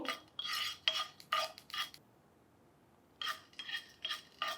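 A utensil scrapes and stirs through a pan where black gram is roasting in a little ghee on a stove. Close rhythmic scraping comes in bursts, broken by a pause of about a second, and no one speaks.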